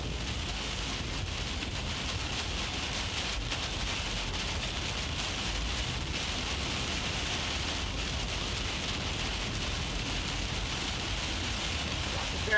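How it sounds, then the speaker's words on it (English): A hail and rain storm core pounds down in a dense, continuous roar of hitting stones and rain, steady and loud throughout with no pauses, during a storm and tornado chase in Missouri. "Here it comes. Big hail coming."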